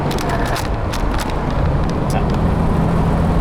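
A 1960 Jaguar Mk 2 with a 3.8 liter engine driving in fourth gear, heard from inside as a loud steady engine and road rumble mixed with wind noise.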